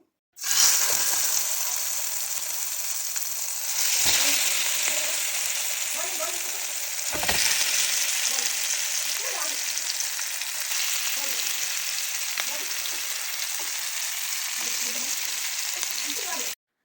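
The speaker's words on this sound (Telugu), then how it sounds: "దాన్ని మ్యారినేట్ చేసేసిన నేను దాన్ని ఆయిల్‌లో షాలో ఫ్రై చేస్తున్నాను" Marinated chicken shallow-frying in oil at home, seasoned with chilli and coriander powder: a loud, steady, close crackling sizzle lasting throughout, with brief louder surges, some faint background sounds and no clear talk.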